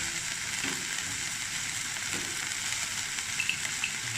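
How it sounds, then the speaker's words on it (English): Garlic fries in a pan with seared minced meat, making an even, dense sizzle throughout. Faint stirring and a few light clicks sit near the end, with no speech. "Once the meat is seared off, garlic goes in."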